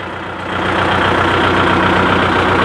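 A tractor engine idles steadily with a low, even diesel rumble that swells slightly in the first half second and then holds constant and close, no voices over it.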